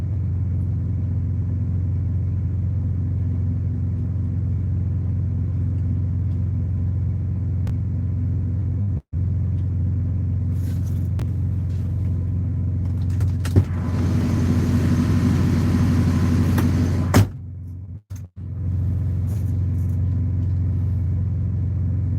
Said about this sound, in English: this idling truck with a very smoky reefer is not making it easy to do that.